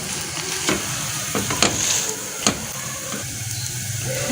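A radish-stuffed paratha sizzles in oil on a flat griddle with a steady loud hiss, broken by a few sharp clatters and scrapes as it is flipped and oiled; no voices.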